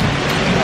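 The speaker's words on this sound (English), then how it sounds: "it started pouring rain" Heavy pouring rain at an outdoor seating spot in Mexico City, a dense, steady wash of close downpour with no break across the short moment.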